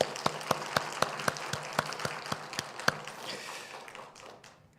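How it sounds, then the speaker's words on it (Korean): A church congregation at a Christmas Sunday service claps for the choir: sharp, evenly spaced claps ride over softer applause that trails off toward the end. "우리 수고했다고 우리 박수 한번 하겠습니다"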